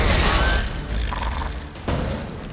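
A loud booming explosion in The Witcher 3: Wild Hunt fades into rumbling debris, then a second thump lands near the end.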